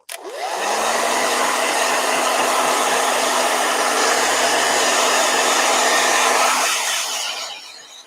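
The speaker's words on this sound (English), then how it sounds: "This is blow dryer." A hair dryer whirs loudly and steadily at close range, with a rising spin-up at the start and a falloff near the end, its broad airy roar covering everything else.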